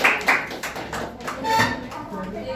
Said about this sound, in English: Well done, clap for Aman.